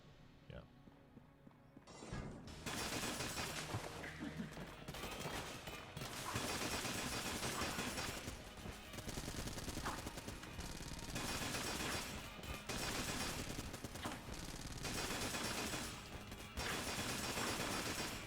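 Super meat gun firing in the video game Enter the Gungeon, a dense rapid barrage of shots that runs in sustained bursts with brief gaps, loud and close, while someone talks over it.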